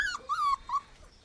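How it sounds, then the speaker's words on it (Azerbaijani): A small spotted puppy whimpers close by, giving a few high, thin whines in short bursts with brief pauses between them, at a fairly soft level with no talking. "bu gələn yanımda olan ala küçük satışdadır, satılır o"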